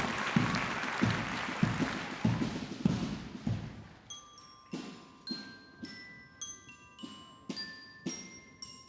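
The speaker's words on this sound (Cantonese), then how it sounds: "一齊俾啲熱烈嘅掌聲鼓勵佢哋。" At a STEM awards ceremony, an audience gives a burst of fairly close clapping for about four seconds. The applause then fades into soft thuds and bright chiming tinkles.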